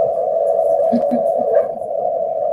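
A sonified gravitational-wave chirp from two black holes merging 1.3 billion light years away, a steady wavering electronic tone with faint flutters, played back alone.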